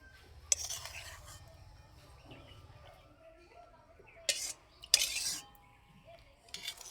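Soaked chushi pithas in milk are lifted onto a plate with metal utensils: a few sharp clinks and scrapes spread across a quiet stretch, with faint whispered voices in the background.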